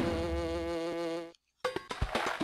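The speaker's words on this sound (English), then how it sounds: "They're buzzers. They're mechanical bees." Buzzer enemies, the mechanical bees of Donkey Kong Country 3, make a steady, reedy electronic buzz that drones for over a second, cuts out abruptly, then gives way to choppy game sound effects.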